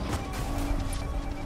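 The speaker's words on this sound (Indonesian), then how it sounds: "Nabrak beton tuh." A car slams into a concrete barrier in the Need for Speed Payback racing game on PS5: a dense, loud crash and scrape with steady engine rumble beneath, alone without talk.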